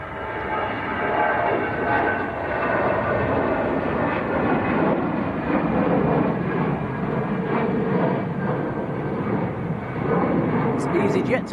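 An EasyJet airliner bound for Zurich roars steadily at Manchester Airport on a windy day, a broad continuous jet rumble lasting throughout with no talk over it.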